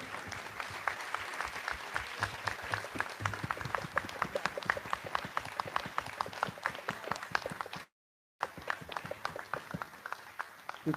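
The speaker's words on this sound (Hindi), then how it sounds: "तालियां बजाइए।" Rhythmic, fairly sparse clapping from an audience at a school satsang event in Mumbai, steady hand claps at close range; quiet overall, with a brief dropout near the end before the clapping resumes.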